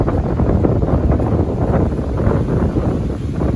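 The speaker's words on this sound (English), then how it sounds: "see how hard that flag's blowing" Strong, steady wind roaring across the microphone in a sheltered boat cove, with a flag whipping hard and a constant dense rumble throughout, no talk.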